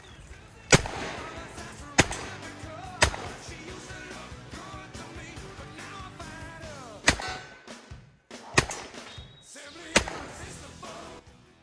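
Gunshots from a Rock Island Armory M200 .38 revolver fired outdoors, about seven sharp loud cracks at irregular spacing, some in quick pairs, with ringing decay after each and faint talk between them.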